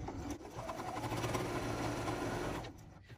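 A sewing machine stitches steadily around the edge of a quilted fabric egg-shaped mug rug, a close, continuous mechanical whir with rapid needle rhythm for most of the clip, stopping near the end.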